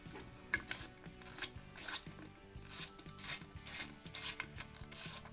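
A driver bit turns out small screws set into a guitar action, giving repeated short ratcheting, grinding bursts in an even rhythm, close and fairly quiet, with no talking.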